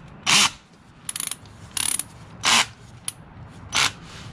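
Power drill driving a screw into a 3D-printed trolling motor buffer, heard as five or six loud close bursts of whirring, rapid ratcheting from the clutch, separated by brief pauses, with no talking.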